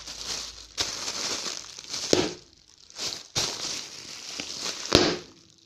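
Plastic air pillow packaging from a Lego store order being popped and crushed, several sharp loud bangs separated by crinkling plastic, close by with no talking.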